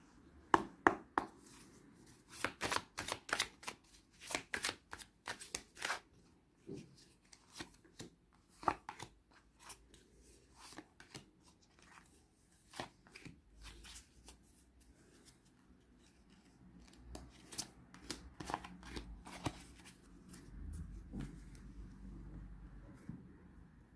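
Tarot cards being shuffled and handled, a run of dense crisp flutters and sharp riffles with quieter stretches of card movement in between, up close with no talking.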